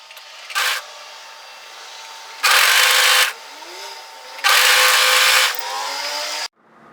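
An overlocker runs in loud, steady bursts as it stitches across the shoulder seam of a longline hoodie, stopping and starting three times, then cutting off sharply.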